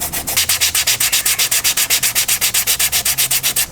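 A Corvette C6 body panel is hand-sanded with a flat sanding block in a body shop. About two dozen quick, even back-and-forth rasping strokes sound close and loud in a steady rhythm, with no talking.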